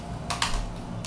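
A computer keyboard is shifted on a desk and gives a few brief, close plastic clatters and key rattles over a quiet room hum.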